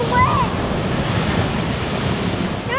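Ocean surf rolls in at Yachats State Park on the Oregon coast, a loud, continuous roar of breaking waves mixed with wind buffeting the microphone.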